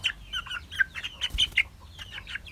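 Soft, irregular clucks and short chirpy calls from a six-week-old KUB chicken being weighed, close by, with a low rumble of handling noise underneath.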